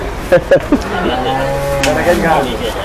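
Cattle moo a few times at a cattle market in Gabtoli, including short calls and a long low drawn-out moo, close by over steady background noise.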